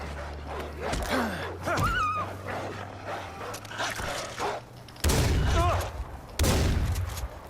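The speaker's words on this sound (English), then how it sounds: "See if I can cop them all with this shotgun." Shotgun fire in the video game Far Cry 4: two loud, booming blasts toward the end, after a stretch of someone talking over game ambience with animal-like calls.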